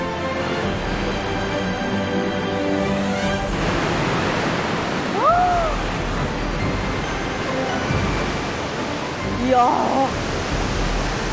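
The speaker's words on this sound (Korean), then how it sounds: "화강암 바위만 가득한 이곳에도 물소리가 들려오는데요." Roaring waterfall pouring among granite rocks at Augrabies Falls, South Africa: a broad, constant rushing wash of water filling the scene, with a voice exclaiming briefly over it.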